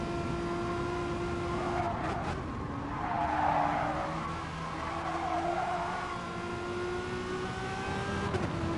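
Renault Megane Trophy race car in Gran Turismo Sport on the Bathurst Mount Panorama circuit, its engine droning steadily with rising and falling tones and brief tire squeal, heard from on board.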